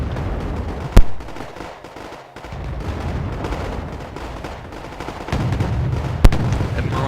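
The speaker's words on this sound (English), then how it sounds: "A lot of artillery's been dropped down," Artillery fire in the Wargame AirLand Battle video game: two sharp, loud reports stand out over a continuous rumble of distant shelling and gunfire.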